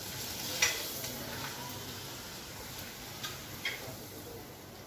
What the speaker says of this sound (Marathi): पापड तळून घेऊया